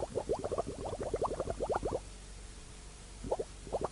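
Carbon dioxide is drawn by a water-tap vacuum and bubbles through a solution in a laboratory flask, making rapid bursts of close gurgling plops, then a short pause before a few more bubbles.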